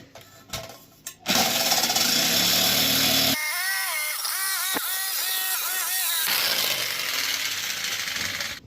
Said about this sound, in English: run down the line with a jigsaw